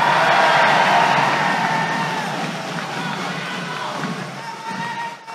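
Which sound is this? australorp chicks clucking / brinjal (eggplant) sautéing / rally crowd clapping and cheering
rally crowd clapping and cheering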